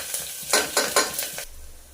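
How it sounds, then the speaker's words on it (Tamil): Ginger garlic paste and curry leaves hitting hot oil with popped mustard seeds, giving a loud burst of sizzling with three or four quick stirring scrapes that then die away. "இந்த ஸ்டேஜில் கொஞ்சமாக கருவேப்பிலை, இஞ்சி பூண்டு பேஸ்ட்டை இது கூட ஆட் பண்ணிக்கிறோம்"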